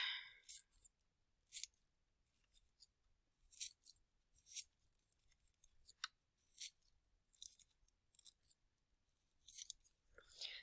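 Scissors snip through blue paper strips for a colorful sun mosaic craft, a series of crisp separate cuts in an irregular rhythm, close and quiet with near silence between snips.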